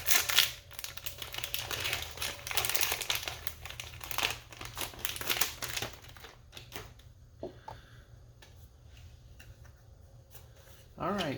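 A crinkly foil booster pack from the Destiny trading card game is torn open and handled. Dense rustling and crackling fill the first several seconds, then the sound thins to sparser crinkles near the close.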